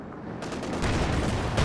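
A mine detonates in Company of Heroes 2, a sudden loud blast that erupts after a short quiet lead-in and rumbles on as a dense, sustained roar with scattered sharp cracks of battle.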